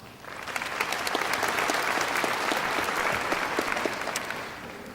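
Sustained applause from a graduation ceremony audience, a dense steady clatter of many hands clapping at once that holds evenly for about five seconds before easing slightly at the end.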